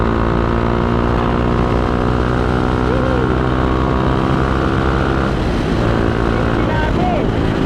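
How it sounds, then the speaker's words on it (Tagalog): Overheated motorcycle engine running steadily and loudly throughout, a continuous close drone with a harmonic hum, some traffic-like noise mixed in. "Nag-overheat yung motor ko."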